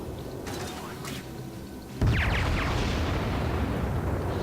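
Naval gunfire in World of Warships: faint mechanical clicks, then a heavy boom at about two seconds that rolls into a sustained rumbling, noisy wash.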